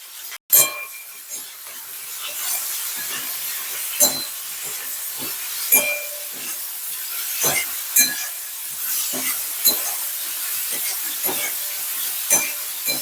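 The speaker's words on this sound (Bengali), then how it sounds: "হালকা ভাজা ভাজা করব" Ridge gourd with raw lentils, dried chillies, salt and turmeric frying in a pan in a village-style Bengali kitchen: a steady soft sizzle broken by sharp stirring scrapes and clinks at irregular intervals, with no talking.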